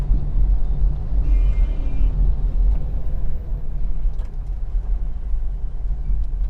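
A manual car's engine holds a steady low rumble as the driver eases off the clutch with light throttle and pulls away into second gear, close and continuous with no talk.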